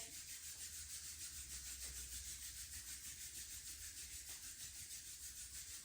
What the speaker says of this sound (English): And one more time, rub our hands together.